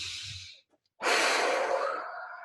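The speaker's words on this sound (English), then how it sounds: "So let's just take another deep breath" A slow, deep breath drawn in and then let out during a guided calming exercise, a soft airy inhale followed after a brief pause by a long, steady, close exhale, with no talking.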